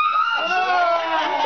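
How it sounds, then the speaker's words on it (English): A young child screams in a high, piercing, sustained squeal that lasts about a second and a half at close range, with no talk over it. "You made her scream."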